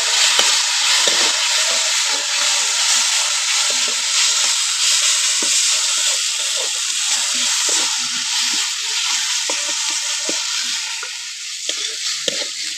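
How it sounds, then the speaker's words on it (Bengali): Ground coriander, cumin and Kashmiri chilli powder fry in a pan for a pointed gourd curry, giving a continuous loud sizzle with light scraping from stirring throughout. "সব মশলা দিয়ে ভালো করে একটু ভেজে নিয়েছি।"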